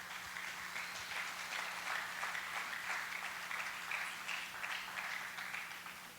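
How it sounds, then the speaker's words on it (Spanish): A church congregation gives sustained applause during a sermon, a dense, steady wash of clapping that swells slightly and then fades a little, heard from some distance. "démosle un fuerte aplauso a nuestro Dios."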